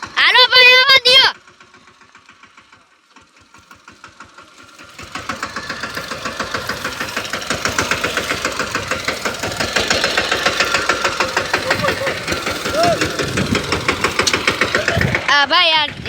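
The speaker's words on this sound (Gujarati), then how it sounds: "આ ભાઈ જો હમણાં ટ્રેક્ટર રાખશે." A tractor engine runs in a farm field with a steady, rhythmic knocking chug that grows stronger and stays close. Short loud bursts break in at the very start and end.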